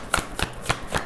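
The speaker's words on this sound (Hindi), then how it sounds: "पहले cards निकाल लेते हैं फिर बात करते हैं." Tarot cards shuffled by hand in four quick, evenly spaced riffling bursts, close and crisp, alone without talk.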